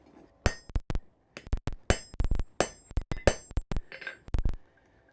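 A hammer pounds hot metal on an anvil in a smithy. A fast, irregular run of loud, bright, ringing clangs comes close to the listener, with brief pauses between clusters of blows.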